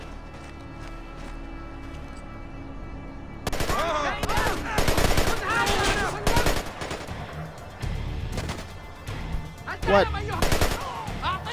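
Rapid bursts of gunfire in the Splinter Cell Conviction video game while sprinting through a level, sharp volleys starting partway in, with a brief spoken word among them.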